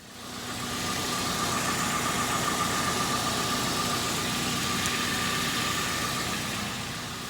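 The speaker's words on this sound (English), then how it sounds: "And we'll start the engine." A 2005 Ford Ranger pickup truck engine idles steadily and close, a low rumbling drone with a faint whine, running continuously without voices.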